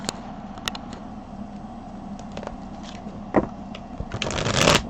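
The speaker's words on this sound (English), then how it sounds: "So I'm going to shuffle the cards" Tarot cards shuffle close by in soft, papery riffles and flutters over a low steady background hum, building to a denser burst of shuffling at the end.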